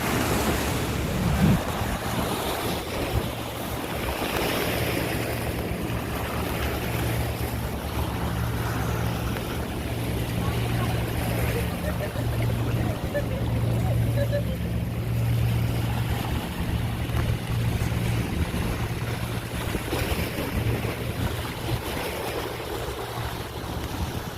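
Sea waves wash steadily into a seashore cave, a continuous roaring surf with gusts of wind noise buffeting the microphone and no voices.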